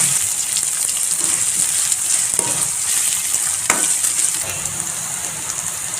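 Onions, green chillies and coriander leaves fry in hot oil in a pan for chana usal, giving a steady, close, continuous sizzle with small crackles throughout and no talking.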